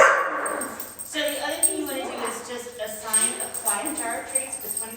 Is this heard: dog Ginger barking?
yes